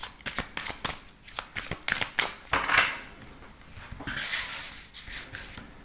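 Tarot cards are shuffled by hand for a card reading: a rapid series of crisp riffling bursts, then a softer, continuous sliding shuffle, close and clear.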